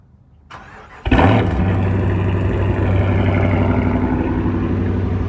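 A 2015-or-later Dodge Charger or Challenger cold-starts in the morning: a quick starter whir, then a loud engine catch and roar that settles into a steady, deep, rumbling idle close by, with no voices.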